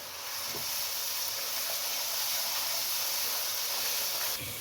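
Sliced onions with ginger-garlic paste fry in a pot, giving a steady, close, even hiss that runs unbroken from start to finish with no talk.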